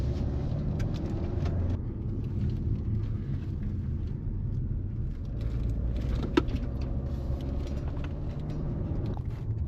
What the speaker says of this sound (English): now I have to drive up a whole mountain again